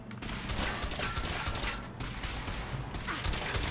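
Rapid bursts of gunfire in the video game Fallout 4, dense clattering volleys of shots that run nearly continuously at close range, with no voices.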